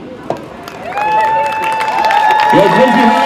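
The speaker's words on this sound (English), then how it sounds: "big round of applause for you kids" A crowd applauds and cheers for Quincy High seniors at a baseball game, a broad swell of clapping rising after a sharp start and holding steady, with a sustained ringing tone running through it.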